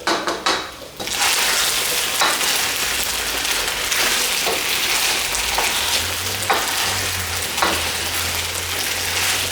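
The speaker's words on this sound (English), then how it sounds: "I'll keep on stir frying the chicken so it can get that very crispy exterior" Chicken sizzles and crackles loudly as it is stir-fried in a hot pan, with periodic scraping strokes of a utensil stirring it; a low hum enters near the end.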